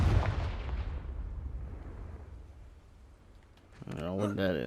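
Confringo fire spell exploding in Hogwarts Legacy: a loud blast that rolls off into a fading rumble over several seconds, then a voice comes in near the end.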